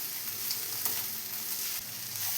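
Chopped tomatoes sautéing in a pan for an egg and green pea keema, a steady close sizzle with faint stirring scrapes and no voices.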